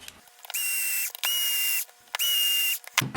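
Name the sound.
electric screwdriver driving screws into RC wheel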